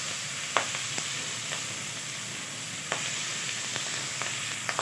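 Onion, carrot and celery sauté in a pan for homemade chicken stock, giving a steady, close sizzle broken by a few sharp clicks from stirring, with no voices.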